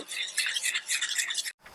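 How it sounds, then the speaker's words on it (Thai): A quick, scratchy whisking of beaten eggs in a bowl, steady and close, then a brief pause before it resumes. "ใส่ไข่เสร็จแล้วก็คน คนให้เข้ากัน"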